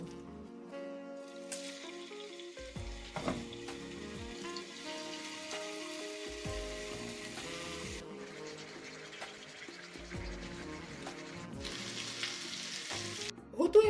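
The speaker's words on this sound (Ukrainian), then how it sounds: "На сковорідку трошки бризнемо олійки і будемо жарити нашу курочку." Chicken sizzles and crackles steadily in hot oil in a pan for a Caesar salad, with occasional clinks and stirring sounds over a continuous hiss.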